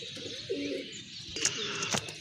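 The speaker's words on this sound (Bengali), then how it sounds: "খুবই সুন্দর বিগ সাইজের এক জোড়া কবুতর" A pair of large domestic pigeons coo close by, with soft throaty coos followed by a couple of sharper chirps near the end, over a quiet background.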